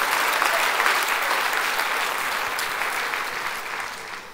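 An audience applauds without a break at a gathering. Many hands blend into a dense, even wash that slowly fades toward the end.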